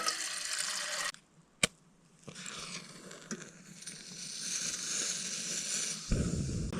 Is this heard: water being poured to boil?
yes